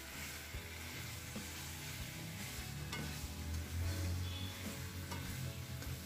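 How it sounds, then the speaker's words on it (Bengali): Chicken sizzling in hot oil with spices in a wok, a dense continuous crackle and hiss with a low rumble underneath, steady throughout with scraping stirs now and then. "এবার এর মধ্যে আমি চিকেনটাকে দিয়ে ভালো করে ভেজে নেব মশলার সাথে।"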